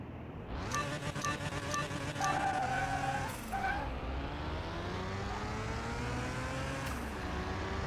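A 1992 Mazda RX7 revving hard in Car Mechanic Simulator 2021, engine pitch climbing through gears with brief shift drops, then a long steady rising drone, loud and close with a short screech near the start.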